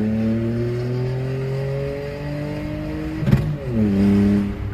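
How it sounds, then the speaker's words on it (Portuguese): Tuned Volkswagen Up TSI with a stage 3 setup and exhaust diffuser, the engine droning steadily up through the revs before a sharp crackling pop on the gear shift, then pulling again at lower revs. "esses pipocos na troca de marcha é muito louco"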